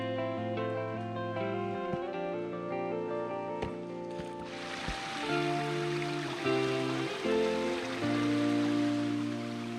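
A brook and waterfall rush beneath a bridge on a rainy day in Acadia National Park. A steady hiss of water swells in midway, while music plays over it throughout.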